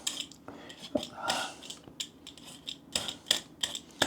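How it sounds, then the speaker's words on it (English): A kitchen knife chops potatoes into fairly large cubes for a ground beef stew, giving a series of crisp, irregular cutting knocks on a board at close range. "And I'll cut those up so they're cubed."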